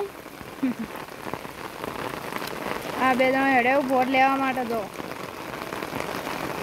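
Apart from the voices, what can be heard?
rain falling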